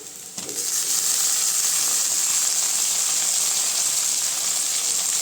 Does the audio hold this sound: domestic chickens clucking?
no